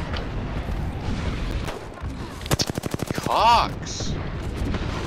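Explosions from bombing enemies in the Apex Legends video game, a loud burst of rapid gunfire-like blasts followed by a booming detonation, with a brief shout over the in-game combat.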